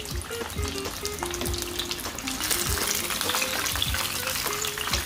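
A milky crispy pata, a whole pork leg, deep-fries in a pot of oil with a steady bubbling crackle, close and even, and intermittent clanks and scrapes from a utensil turning it.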